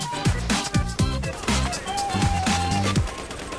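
Weapon fire in the video game Tom Clancy's The Division, a steady stream of rapid shots with music and game effects layered underneath, continuous and fairly loud for the whole stretch.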